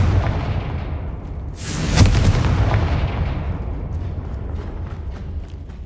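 A Confringo fire spell goes off in Hogwarts Legacy as a deep, rumbling blast with a bright crackling burst, followed by a long low roar that slowly fades.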